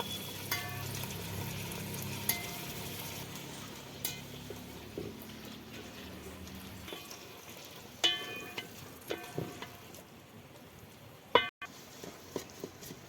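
Rajma (kidney beans) frying in a pan over a mud stove, a soft continuous sizzle in the first half that gives way to quieter crackling, scattered clinks of a utensil and a sharp knock near the end.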